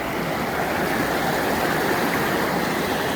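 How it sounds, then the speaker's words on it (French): A small waterfall spills over a dam in Greece, a steady, loud broadband rush of falling water heard close and alone. "Avec ma petite cascade d'eau juste à côté."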